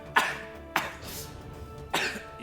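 A voice mimics coughing with three rough, raspy bursts spaced unevenly, close and fairly loud.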